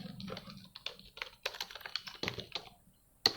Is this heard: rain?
no